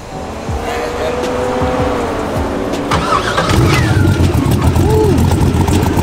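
A car engine cranks and catches, then runs with a deep, throaty idle that swells louder partway through, its side-exit pipes rumbling close by while people talk over it.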